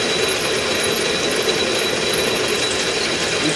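A drill bit grinds steadily into oiled metal, a dense, constant mechanical whir with no pauses or speech.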